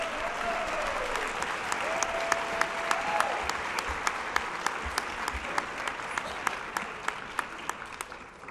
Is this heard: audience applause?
yes